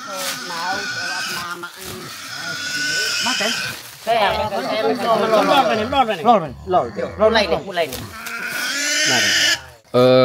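A pig squeals loudly and repeatedly at close range during slaughter at a traditional village ceremony in Nusa Tenggara Timur, the shrill cries rising and breaking over shouting voices and crowd noise.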